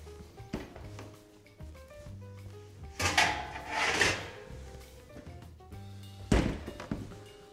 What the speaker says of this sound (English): open the door, let a little bit of the heat escape.